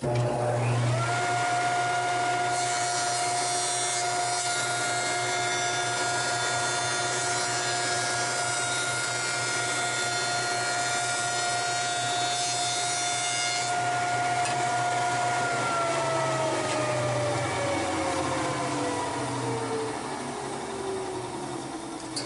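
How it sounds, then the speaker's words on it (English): Jointer planing the edge of a wooden chest lid in one slow pass, a loud steady motor whine and cutter-head roar, close and continuous, winding down toward the end. "So I'm just going to do one slow pass with the jointer."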